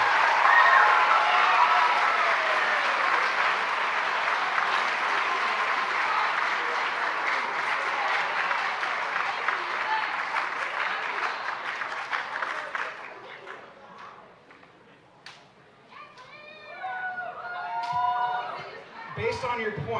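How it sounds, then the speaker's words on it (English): Audience applause for award winners at a DeKalb spring band concert, a loud sustained burst of clapping across a crowd that fades after about thirteen seconds into scattered claps, murmurs and voices. "Let's hear a round of applause for all of our award winners tonight"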